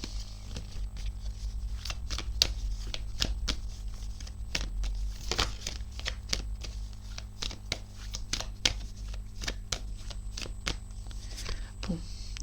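Tarot cards being shuffled close by, a steady run of crisp riffling snaps and slaps repeating for several seconds over a low background hum.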